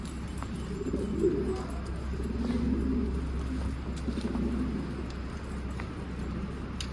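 Pigeons in a coop give soft, low cooing calls in repeated phrases, fairly close, over a faint steady hum with occasional small clicks and rustles.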